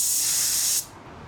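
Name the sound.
paint spray gun spraying clear coat test pattern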